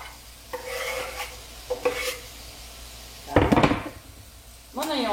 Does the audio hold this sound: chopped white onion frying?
yes